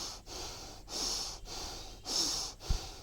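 Slow, deep breaths in and out repeat at a steady, calm rhythm, each inhale and exhale clearly audible and close, with no talk over them.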